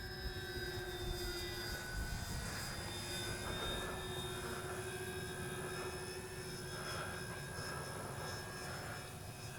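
Twin-engine Avios 1600mm Twin Otter RC model plane in flight, a steady continuous propeller and motor drone with whining tones, holding a constant level throughout with no talking.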